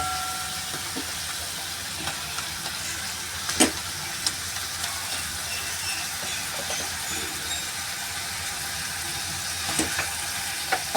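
Bitter gourd peel sabzi sizzles in a pan as gram flour is sprinkled in and stirred, a steady close frying hiss with occasional sharp crackles and spatula scrapes.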